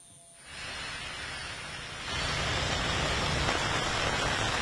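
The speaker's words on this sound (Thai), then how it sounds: "วันนี้ฝ นตกตลอดทั้งวัน ก็ยิ่งเพิ่มความยากลำบากให้พวกเขามากยิ่งขึ้นครั บ" Steady rain falls at a roadside shelter for flood evacuees, a soft hiss that swells louder partway through and then stays constant, with no talking.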